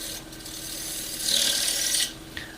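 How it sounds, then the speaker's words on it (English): Bowl gouge cutting a spinning wooden medallion on a lathe, a close, steady scraping hiss that swells louder midway for under a second before dropping back, with no talking. "I'm going to use mainly the bowl gouge, just to take off"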